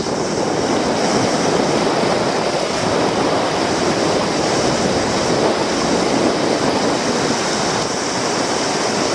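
River water rushing steadily across a wide, shallow stretch, a loud continuous broadband wash with no pauses, close by and alone without any voices.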